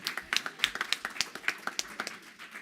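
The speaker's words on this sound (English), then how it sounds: "I want you to clap for Shayla Moon" An audience claps at a National Action Network convention in 2022, a quick uneven patter of many hands that keeps a steady rhythm and moderate loudness, fairly close, with no talking over it.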